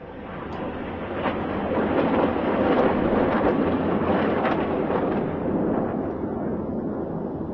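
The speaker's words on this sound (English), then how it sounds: "We've got more clips of Iranian missiles coming in" Iranian missiles striking in news footage, heard as a continuous loud, heavy rumble of explosions that swells and holds for several seconds, with no voices.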